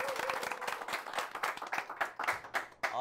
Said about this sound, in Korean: 격려의 박수 한 번 더 네, 부탁드립니다